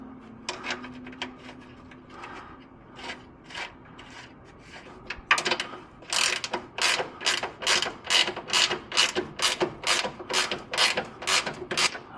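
A hand ratchet backs a bolt out of the lower control arm on a Mazda NC MX-5. Slow, scattered clicks give way to a fast, even run of close, crisp pawl clicks, with no voices.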